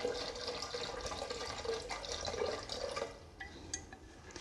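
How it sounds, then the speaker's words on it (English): Water pouring steadily into an espresso machine's reservoir, a continuous close splashing stream that tapers off into a few drips near the end. "every day you refill the machine with fresh filtered water into your reservoir"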